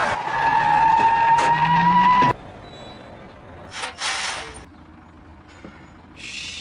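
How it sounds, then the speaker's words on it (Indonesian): A bus tyre bursts while driving in a film scene: a loud sustained tyre and engine roar with a rising whine cuts off abruptly, followed by quieter rumble and a couple of short hissing bursts. "ban bus mereka tiba-tiba saja pecah yang mengagetkan semua orang"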